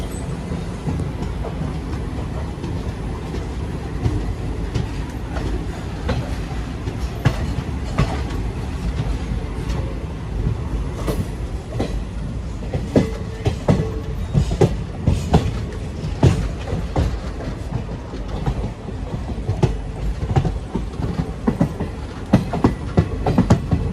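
A sleeper-class train runs along the rails from Palitana to Bhavnagar, with a steady rumbling roar and repeated clickety-clack wheel beats heard from inside the carriage.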